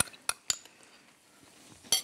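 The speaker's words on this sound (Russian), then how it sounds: "Перевожу майонез в большую миску." A spoon clinks and scrapes against a large bowl as mayonnaise is transferred into it for a falafel and cod dish. There are three sharp, separate clinks over a quiet kitchen background, with no talking.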